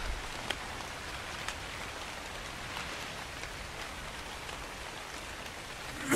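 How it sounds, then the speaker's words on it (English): Steady rain falls in the video game Ark: Survival Evolved, a dense even hiss of drops with occasional faint taps, continuous throughout and unaccompanied by talk. "I can see clearly now that the rain has literally gone"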